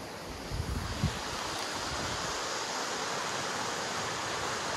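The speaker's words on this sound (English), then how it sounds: "the sound of the river, which doesn't come across very well on camera" A river flowing steadily close by outdoors, a broad continuous rushing wash of water with no talk over it.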